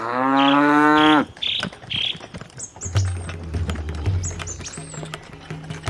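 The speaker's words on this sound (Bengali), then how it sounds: "গ্রামের মেঠো পথ দিয়ে গরুর গাড়িতে বসে নীল আর শুভ পৌঁছে গেল নীলের দিদার বাড়িতে" A single loud, drawn-out cattle moo sounds close at the start, followed by softer tapping and faint high bird chirps, set in a village lane with a bullock cart.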